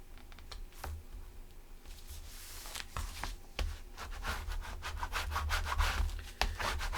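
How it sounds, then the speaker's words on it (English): Paper being burnished down onto a handmade outdoors-themed journal, heard as steady close rubbing and scraping strokes that grow denser and louder toward the end, with no talking. "And just burnish it real well."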